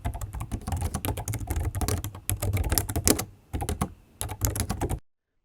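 Fast typing on a computer keyboard, with rapid bursts of close, crisp key clicks, short pauses between runs, and a final stop into silence.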